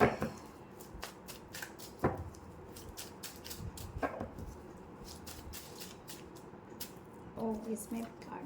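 Tarot cards being shuffled by hand in short, crisp bursts of riffling and slapping, with soft thumps between them, fairly close and quiet against a faint room background.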